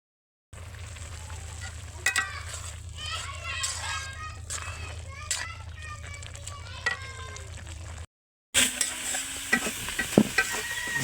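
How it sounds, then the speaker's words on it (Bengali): Radish greens boil in a pot on a stove and are stirred, giving a steady bubbling sizzle with scraping strokes, while children's voices chatter in the background before a brief cut to a louder, busier stretch. "এই তো আমি মূলা শাকটা সিদ্ধ করে নিতেছি আগে।"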